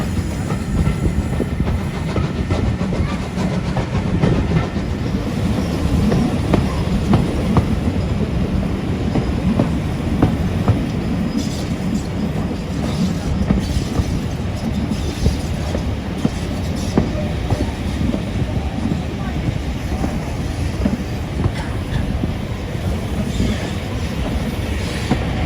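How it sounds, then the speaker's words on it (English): Steam train running on the Keighley & Worth Valley Railway during a spring steam gala, a steady close rumble of rolling stock with faint clickety-clack and hiss throughout, no voices. "that loco is going to follow us down now, big Jim"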